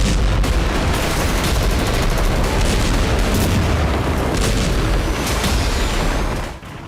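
Bombing explosions from the war in Gaza come as loud, dense booms and crackling bursts of gunfire-like blasts that run continuously, then drop away at the end.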